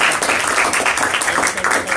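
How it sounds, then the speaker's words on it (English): High school audience applauding a visiting speaker, dense steady clapping from many hands filling the room for about two seconds without pause. "I want to give a round of applause to all of you"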